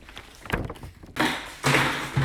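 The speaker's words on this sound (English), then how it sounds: "And I just knocked over some buckets." Buckets knocked over in an artist's studio near a window, a few clattering thuds and hollow knocks in quick succession followed by rattling bursts, close and moderately loud.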